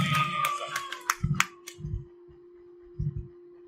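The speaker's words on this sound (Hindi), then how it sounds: "तालियां बजाइए इस उम्र के लिए और इस साहस के लिए प्लीज" Scattered hand claps from an audience at a school inauguration ceremony in Sheohar, a few sharp bursts separated by pauses, fairly faint, with a steady electronic hum running underneath.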